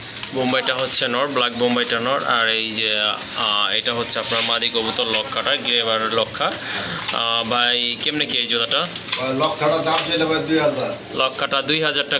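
Pigeons in a market pen, a Bombay male paired with a Giribaj female among others, coo steadily and close by throughout, their rolling calls layered under near-constant talk from people at the stall.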